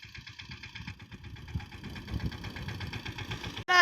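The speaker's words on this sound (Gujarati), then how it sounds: "મુના મામા આવ્યા છે ટ્રેક્ટર લઈને" A tractor engine idles steadily with a repetitive mechanical throb on a farm, fairly close and continuous, ending with a brief sharp noise.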